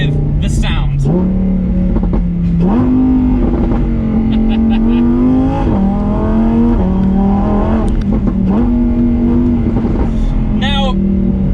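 A Lamborghini Huracan EVO Spyder's naturally aspirated 5.2 litre V10 rises and falls through repeated gear changes, with stepped climbs in pitch and crackles on the overrun. It is loud and close, recorded roof-down in the open car.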